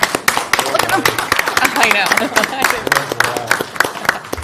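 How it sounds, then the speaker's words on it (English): A council meeting audience clapping for Cody, a steady burst of crisp, close applause that keeps up throughout, with voices talking and chatter mixed in underneath. "Can we clap for you?"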